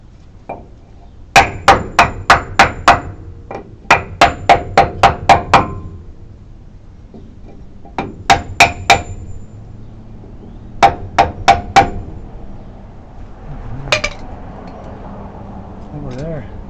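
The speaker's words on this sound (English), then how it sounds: "Once you get it started, just hammer it in." Bursts of sharp hammer strikes on a wooden block, in quick runs of four to eight blows separated by pauses, with a voice speaking between them.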